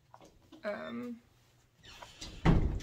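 An indoor door is pushed shut at home with a single firm thud at the end. It follows a moment of quiet and a short bit of talk.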